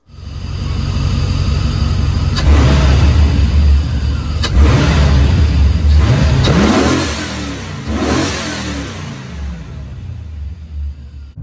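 A loud C4 Corvette V8 with a K&N air filter and SLP Blackwing cold air intake revs hard several times, deep rumbling swells rising and falling, then settles back to a lower idle.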